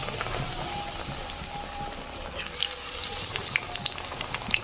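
Pumpkin slices dipped in gram flour batter frying in hot oil, a continuous soft sizzle and crackle with small pops close by.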